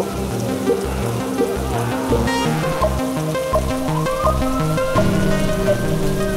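Steady rain patters as a sound effect in a narrated story, with soft music playing along with it.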